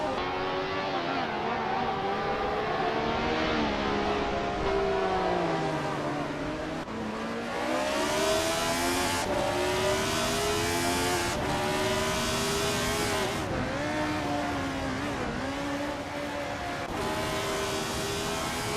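A March 711 Ford race car engine in a racing video game howls steadily at high revs, the pitch climbing and dipping through gear changes as it accelerates and eases off, loud and continuous with no talking.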